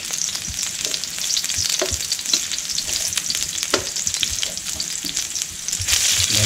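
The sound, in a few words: red onions and garlic frying in a pan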